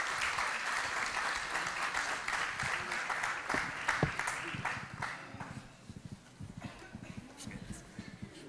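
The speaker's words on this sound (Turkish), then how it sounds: "Alkışlarınız eşliğinde efendim." Audience applause in a hall at a literary symposium, a sustained dense wash of clapping that thins out toward the end into scattered claps.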